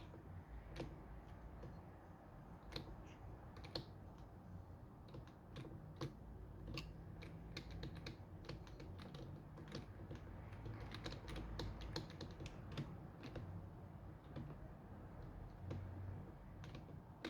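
Rapid keyboard typing and key presses on a computer keyboard during gameplay, including the shift key held for drifting in a kart-style racing game, as a steady stream of close clicks over constant low background noise.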